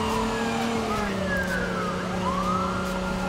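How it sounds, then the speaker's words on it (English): Police car siren in the video game Watch Dogs 2 wails loud and close, its rising and falling tones sweeping continuously over engine rumble, with no talking. "Oh, we got sirens and everything."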